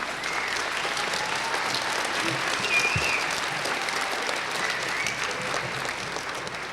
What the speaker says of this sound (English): I'd like for you to give them a round of applause for helping us out tonight.